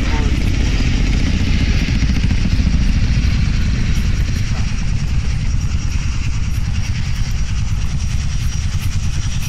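Helicopter rotor and engine in the Arma 3 video game, a steady loud low drone with rapid blade chop running throughout, with players talking over it.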